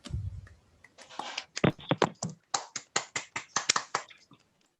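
A handful of sparse, quiet claps welcoming the lecturer at a book-launch lecture, irregular single hand claps that speed into a loose rhythmic patter for a few seconds before stopping, with no talking.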